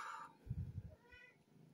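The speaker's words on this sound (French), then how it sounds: "Oh, petit chat." A small cat gives a faint, brief meow or two indoors, quiet and close, with low murmuring sounds around it.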